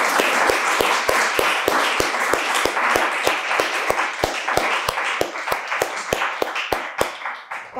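A conference audience applauding the event organizers, a dense, steady round of clapping with a strong rhythmic beat that continues for several seconds before tapering off near the end.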